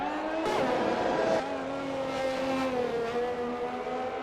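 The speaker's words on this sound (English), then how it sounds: "He looks like he spins out and hits the wall." An F1 race car in a racing game spinning out and hitting the wall at the Mexico round, a steady loud engine whine with a sweeping tire screech and falling pitch, continuous and close.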